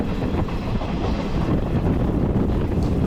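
Passenger train 07153 from Narsapur to SMVT Bengaluru runs along the line near Bapatla and Chirala, giving a steady, loud rumble of wheels and carriage noise with wind buffeting the microphone throughout.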